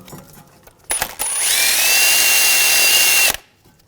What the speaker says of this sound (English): if it's got a little bit of excessive rust, you want to clean that up with a wire brush.